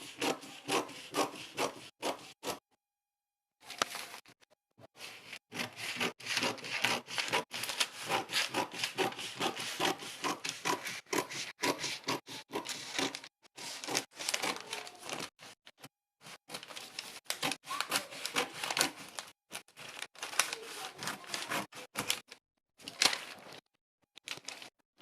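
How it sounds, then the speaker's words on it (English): Scissors cut through paper along a drafted off-shoulder bustier blouse pattern, a steady close rasping and crunching of snips that runs in long stretches with a few brief pauses, no talking. "So now cut it out."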